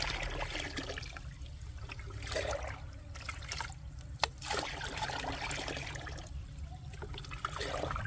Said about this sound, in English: Pour this diluted solution around the base of your plants, where the roots can absorb it directly.